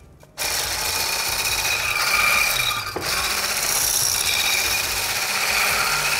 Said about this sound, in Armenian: հարում ենք